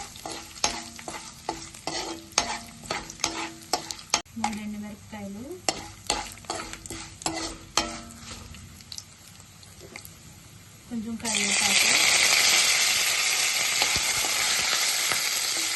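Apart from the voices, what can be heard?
tempering spices, dal and chillies sizzling in oil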